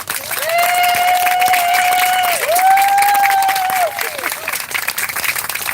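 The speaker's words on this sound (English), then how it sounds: "Round of applause, guys." A crowd at a patriotic speaking event in Newport Beach, California claps and cheers loudly, with a long shrill whistle riding over the dense applause for several seconds.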